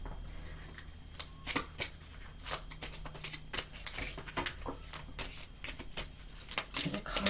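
Goddess oracle cards shuffled by hand in a run of crisp, riffling bursts and soft slaps, close up, with quiet speech in between.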